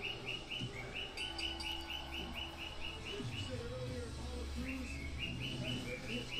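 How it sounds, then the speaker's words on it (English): A pet bird chirps in repeated short, bright tweets in two bursts, heard close and clear over a steady low hum of room noise. "Sounds like Dr. Bird is enjoying himself"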